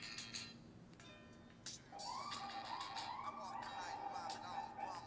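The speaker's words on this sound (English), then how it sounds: "pardon the siren going on in the back" A wailing siren rises and falls steadily in the background, fairly loud and continuous after its onset, with a phone speaker's audio playing underneath on an HTC Inspire 4G.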